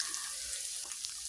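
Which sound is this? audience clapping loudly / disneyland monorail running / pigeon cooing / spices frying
spices frying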